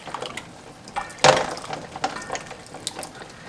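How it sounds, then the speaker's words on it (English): Apple juice made from peelings and cores poured through a strainer into a container at close range, with a splashy burst of liquid then scattered trickles, drips and small clinks. "pour the rest in now and see if I can keep from making a big mess this time"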